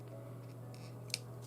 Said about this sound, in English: you can do this with the bigger scissors. You have to make a little cut.